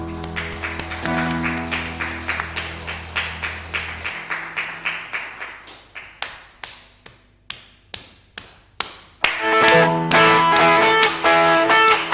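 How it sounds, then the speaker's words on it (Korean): Congregation in a Korean church Sunday worship service clapping in steady rhythm alongside a hymn, with keyboard and singing at first, then isolated regular claps, then full music and clapping returning loudly. "주님을 향한 우리 사랑의 마음을 박수로 표현합시다."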